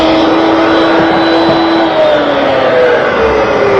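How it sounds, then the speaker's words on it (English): A woodworking router at a router table cuts a 1/2-inch radius profile into cabinet base molding, making a loud, steady high-pitched whine and roar that holds throughout, its pitch shifting slightly as the cut goes on. "I'll form it at the router table"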